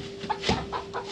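Several chickens cluck in short, irregular bursts close by, a farm-yard chatter of soft repeated calls with a faint steady hum beneath.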